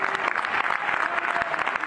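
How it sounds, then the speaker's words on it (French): A packed cinema audience claps steadily and loudly at a Paris film premiere, welcoming the cast of Babysitting, a dense, continuous wash of applause with no voices standing out. "Allez, vous les applaudir, c'est leur dernière avant-première."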